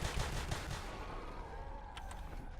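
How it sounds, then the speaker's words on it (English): Gunfire fills a Natural Selection 2 match with dense, continuous shooting throughout a short moment, with a few sharper shotgun blasts standing out near the end. "Oh, shotguns already. First shotgun on the field actually."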